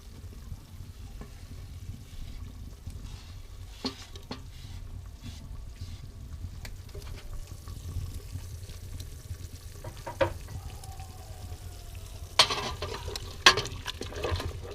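Spices, honey and carrot stirred in a sizzling pot, a continuous low frying hiss with occasional scrapes and clinks of the spoon, louder knocks near the end.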